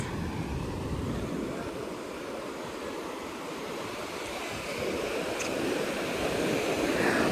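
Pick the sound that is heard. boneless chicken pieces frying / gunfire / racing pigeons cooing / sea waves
sea waves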